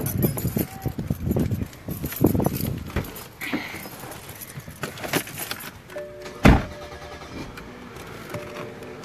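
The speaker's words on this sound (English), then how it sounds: "What's happening right now is we are getting into our car." People climb into a car with rustling, clunks and a jangle of keys. A door slams shut hard partway through, and a voice talks over the noise.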